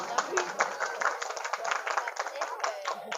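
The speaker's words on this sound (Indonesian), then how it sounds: "Tepuk tangan dulu." Scattered, uneven hand claps from a small group at a Maulid religious gathering mix with children's and adults' voices talking over them.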